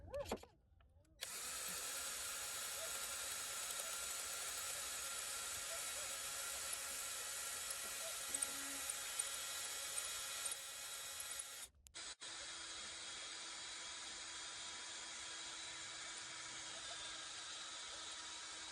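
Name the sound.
power drill enlarging holes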